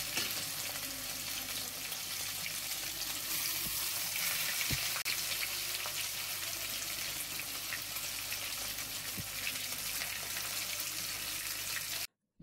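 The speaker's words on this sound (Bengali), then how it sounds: "একটি ফ্রাই প্যানে তেল গরম করে মাছগুলো ভেজে নিতে হবে" Tilapia fish pieces frying in hot oil in a frying pan, a constant close sizzle and bubbling crackle that runs without pause before cutting off at the end.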